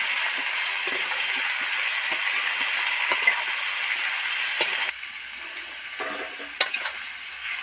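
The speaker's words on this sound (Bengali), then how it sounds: "সবজিগুলো কষা কমপ্লিট হয়ে গেছে" Vegetables frying in oil in a pan for a Bengali katla fish curry, giving a steady sizzle with faint stirring clicks throughout, dropping to a softer hiss partway through.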